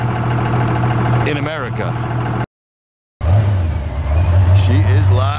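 An extreme tow truck engine idles with a steady low rumble and swells in a couple of revs, broken by a short silent gap, while people talk over it.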